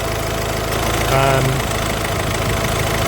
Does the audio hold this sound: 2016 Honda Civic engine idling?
yes